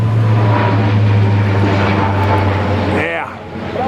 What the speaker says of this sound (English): here comes the doggone airplane